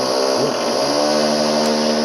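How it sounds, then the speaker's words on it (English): Drilling starts up outside a house, a steady loud mechanical whine and buzz that runs without a break, with no voices over it. "someone has started drilling outside my house"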